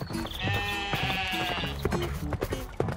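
A cartoon sheep bleats on an animated 3D farm, giving one drawn-out, wavering bleat close up, followed by a few short, choppy sounds.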